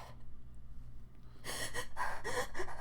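Someone breathes in a crying-like pattern, with sharp gasping, sniffling inhalations that grow louder and more ragged after a quieter start, imitating the rhythm of sobbing.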